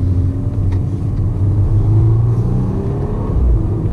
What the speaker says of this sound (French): On entend bien le moteur qui ronronne, et encore, je sais pas si vous le voyez, mais on est à peine à 3000 tours minute, mais l'échappement craque